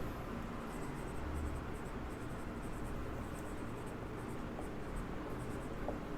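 Pen scratching on paper while writing chemistry notes on aldehydes and ketones, a steady close scratchy rustle with faint repeated strokes throughout and no talking.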